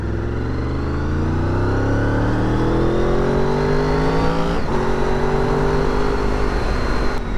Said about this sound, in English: they're a V4 engine and they sound awesome